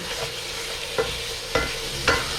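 Impossible plant-based ground burger browning in a pan with little oil, a steady soft sizzle broken by three sharp spatula scrapes about half a second apart near the end.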